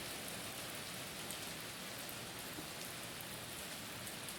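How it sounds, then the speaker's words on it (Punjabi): Heavy rain pours down outside in a Punjabi village in a dense, unbroken hiss, steady and even throughout, with no voices. "ਬਾਹਰ ਲੱਗ ਗਿਆ ਮੀਂਹ ਕਿੰਨੀ ਤੇਜ਼ ਮੀਂਹ"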